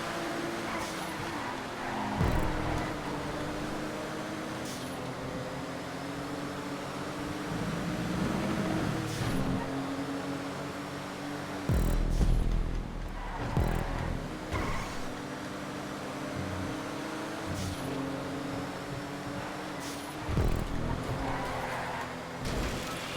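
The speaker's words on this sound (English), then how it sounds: "Classic muscle car, the moonbeam." Declasse Moonbeam, a classic muscle car, racing in GTA 5, its engine roaring and revving continuously with bursts of acceleration and tire skids, loud and close throughout.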